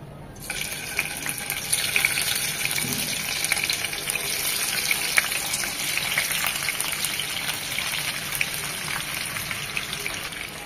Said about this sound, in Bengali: ইলিশ মাছগুলো ভাজার জন্য প্যানে দিয়ে দিচ্ছি সরষের তেল।